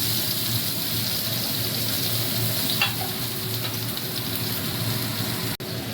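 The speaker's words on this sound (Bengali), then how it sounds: "এবারে ওই তেলেতেই পেঁয়াজ কুচি দিয়ে দেবো। দিয়ে দিলাম পেঁয়াজ কুচি।" Chopped onions fry in hot oil, used just before for bitter gourd, producing a steady close crackling hiss that holds evenly, with one sharp click near the end.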